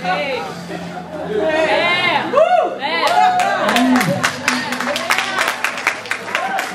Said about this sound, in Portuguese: The women are the only ones applauding